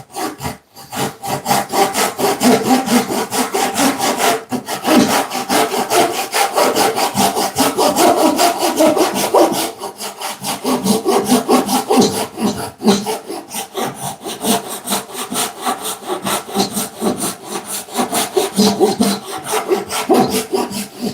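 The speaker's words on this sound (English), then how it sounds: "How does the saw sound, by the way, on the mic?" Hand saw cutting through wood while building a studio, a long, loud run of fast, even back-and-forth strokes recorded close up, with a couple of brief pauses.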